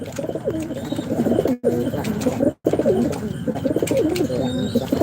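Many pigeons, including high-flying Giribaz pigeons, coo steadily and close together, a dense overlapping murmur of low throaty calls that barely pauses, with faint chirps above.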